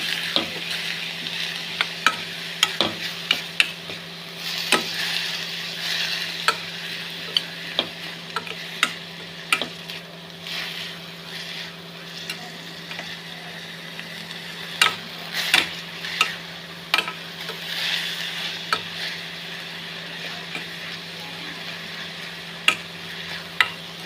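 Paddu ingredients with salt frying in a pan, a steady sizzle under repeated light ticks and scrapes of a spoon stirring against the metal, with no talking.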